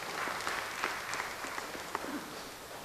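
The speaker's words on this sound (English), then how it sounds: "give a round of applause" Audience applause fills a hall at the opening of the G25 Forum 2019, a steady wash of many hands clapping at moderate level from start to finish, with no talk over it.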